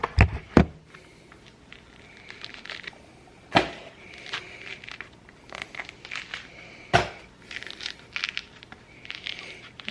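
Orange peeled by hand, with a thick peel tearing in uneven crackly bursts and sharp snaps at close range, separated by quieter rustling stretches and no talk.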